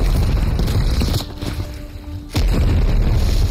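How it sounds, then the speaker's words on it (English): A grenade launcher blast in the game Call of Duty: Cold War, a deep booming explosion with a rumbling tail, heavy low-end thuds at the start and a second sharp boom after a brief lull. "You readied a grenade launcher."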